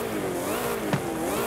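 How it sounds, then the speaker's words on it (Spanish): A Zerouno car in stock form in Forza Horizon 5 runs with a steady engine note and a rising, gliding supercharger whine, plus a brief sharp click near the end, with no voices over it. "Escuché ese supercargador."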